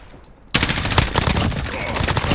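Rapid automatic M4A1 rifle fire in a close-range video game match, a dense loud burst of shots that starts abruptly after a brief quiet lead-in and continues without pause.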